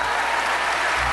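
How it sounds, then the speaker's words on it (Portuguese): A church congregation applauds steadily, a dense, loud wash of clapping hands that carries on evenly without pause. "Uma salva de palmas forte para os de Miraflores."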